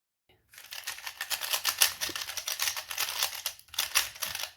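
Cheap Rubik's-style speed cube, lubed and tensioned, turned in rapid bursts, giving a dense rattling clatter of plastic clicks up close, with a brief pause near the end.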